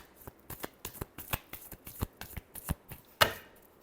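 Tarot cards are shuffled by hand in a quiet room, giving a quick series of sharp, crisp riffles and taps at a brisk, uneven rhythm, ending in one louder snap.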